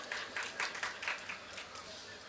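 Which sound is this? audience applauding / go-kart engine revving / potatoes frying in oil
audience applauding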